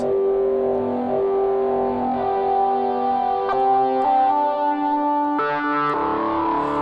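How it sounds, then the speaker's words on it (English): Synthesizer patch run through digital distortion with strong filter resonance, sustained harmonic-rich chords shifting pitch every second or two, loud and steady with no talking. "But while it is digital distortion"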